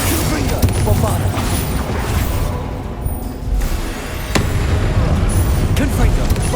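Booming Confringo and Bombarda spell explosions burst in quick succession during Hogwarts Legacy combat, loud and close, with incantations spoken over the blasts.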